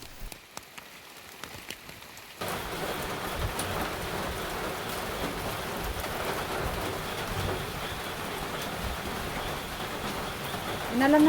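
Rain outdoors: after a quieter start with scattered drops, a dense steady downpour begins abruptly and hisses on surfaces, continuing loudly to the end.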